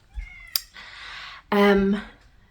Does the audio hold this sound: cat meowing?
yes